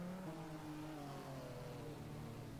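A GT race car at Brno in a sim racing game straining out of a gravel trap, its engine droning steadily with harmonics that slowly sweep downward, moderately loud and continuous with no voices.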